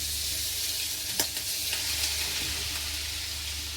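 Minced meat sizzles constantly in hot ghee in a heated pan, an even close hiss broken by a few faint clicks of a spoon breaking it up.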